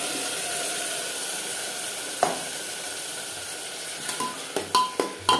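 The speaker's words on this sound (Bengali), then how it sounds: "দু 3 মিনিট কাঁচা গন্ধ যাওয়া পর্যন্ত নাড়াচাড়া করে নেব। তিন 4 মিনিট পেঁয়াজ কুচির সাথে টমেটো পেস্ট" Tomato paste being stirred into frying chopped onions, a continuous close sizzle and hiss with several sharp scrapes and knocks of the utensil against the pan toward the end.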